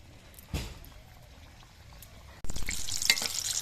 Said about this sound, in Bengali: এই একইভাবে কিন্তু আমি সবগুলো পুলি পিঠে ভেজে নেব